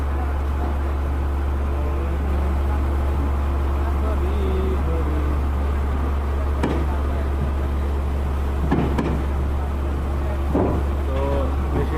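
A heavy excavator being unloaded down from a large truck, its diesel engine rumbling in a steady low drone throughout with occasional clanks, while people talk in the background.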